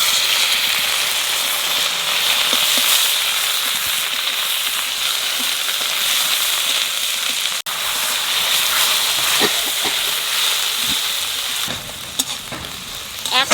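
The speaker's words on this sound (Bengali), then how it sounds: "দারচিনি লবঙ্গ এলাচ তেজপাতা তেলের মধ্যে দিয়ে দেবো।" Cinnamon, cloves, cardamom and bay leaf sizzling in hot oil, a loud, continuous bright frying hiss with small crackles and pops, close up and steady, easing slightly near the end.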